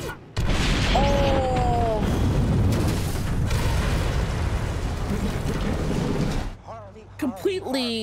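A loud, sustained explosion roars through a scene in The Dark Knight (2008), with a whistling rocket streak early on, then abrupt cutoff and scattered debris clatter; heavy rumble fills most of the span.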